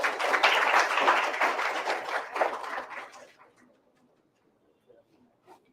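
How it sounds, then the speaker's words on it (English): An audience at a conference session bursts into dense, loud applause that holds for a few seconds and then fades quickly to near silence, leaving a few faint scattered sounds. "Please have a huge round of applause."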